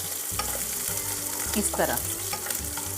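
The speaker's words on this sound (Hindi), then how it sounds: "फिर उसमें डालेंगे हम हरी मिर्च, उसको अच्छे से हम भून लेंगे" Green chillies fry in a pan for vada pav, a steady close sizzle with stirring scrapes, while a brief spoken phrase and tonal background music sit underneath.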